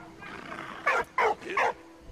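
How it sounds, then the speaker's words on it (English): A dog barks three times in close succession, sharp and fairly near, over quiet background noise. "Quiet, dog."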